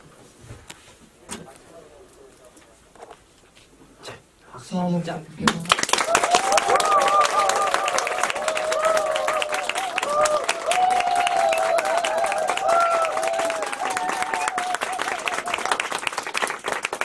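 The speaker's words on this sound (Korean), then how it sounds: "환호성 없이 박수만 하고" A studio audience in a small Korean music broadcast session claps without cheering; after a few seconds of quiet speech and a count-in, dense applause bursts in and holds steady and loud to the end.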